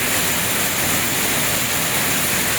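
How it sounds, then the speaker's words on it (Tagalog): Heavy rain pours down in a steady, dense roar with no pauses, close and loud throughout. "Grabe guys, ang lakas ng ulan."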